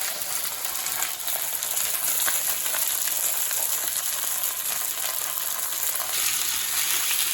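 Meat searing in a frying pan gives a steady, loud broadband sizzle that fills the whole stretch with crackling pops and no talk.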